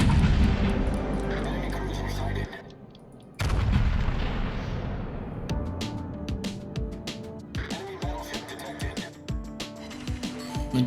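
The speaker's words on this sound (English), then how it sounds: "These are 410mm guns after all." 410mm naval guns fire in World of Warships, a heavy booming salvo at the start and again after a brief lull, followed by rumbling explosions and scattered impacts, with someone talking over the action.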